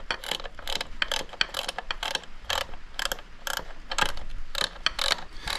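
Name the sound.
tightening a nylock nut on a Royal Enfield Classic 350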